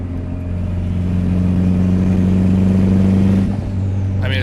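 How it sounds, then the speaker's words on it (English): Eagle Talon turbo engine with a custom 3-inch exhaust, heard from inside the cabin: a loud, steady low drone with strong hum tones that holds for about three seconds, then shifts abruptly as the engine note changes near the end. "It's obviously got lots of loud drone because the exhaust literally exits right underneath of us right now."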